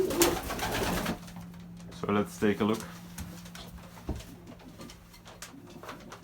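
Racing pigeons, yearlings among them, coo in low bursts inside a loft, close and clear, while someone speaks at the start and a few clunks and rustles follow.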